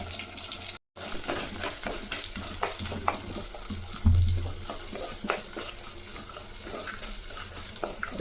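Shallots and garlic sautéing over medium heat in a pan for a fenugreek curry, a low steady sizzle with scattered stirring clicks and a brief gap, heard close with no talking.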